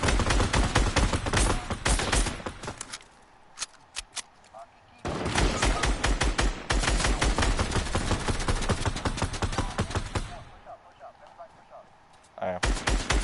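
Bursts of rapid automatic gunfire in a shooter game, loud clattering volleys broken by short quieter gaps, with players talking over the shooting.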